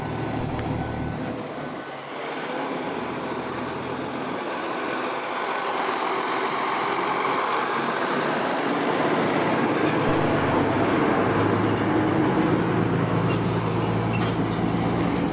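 A Sumitomo FXZ270 excavator, an older model, reverses on a dirt worksite, its exhaust giving a soft, smooth, continuous low rumble that builds slightly and holds steady, with no talk.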